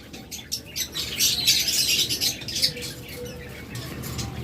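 Caged lovebirds give quick, bright chirps in scattered bursts, fairly close, over a soft background hiss.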